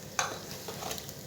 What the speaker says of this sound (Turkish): her tarafını çevirerek kızartıp hepsini aynı bir şekilde kızartacağım